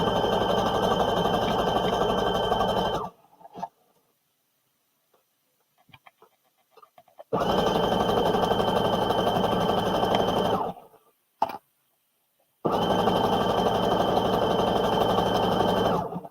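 A sewing machine hemming the bottom of a garment runs in three loud, steady bursts of rapid mechanical stitching, separated by quiet pauses with faint ticks, close up and with no talking.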